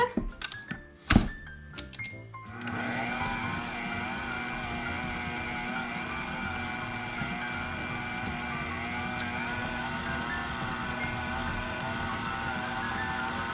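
Stand mixer creaming pumpkin cookie dough, a steady motor whir with a few thunks at the start, then an even, continuous drone running for the rest of the clip.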